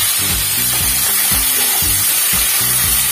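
Onion fries in oil for a mutton curry, giving a close, steady hiss broken by regular scraping stirs about every half second, with no voices.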